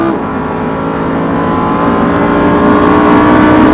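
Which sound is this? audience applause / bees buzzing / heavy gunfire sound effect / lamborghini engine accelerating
lamborghini engine accelerating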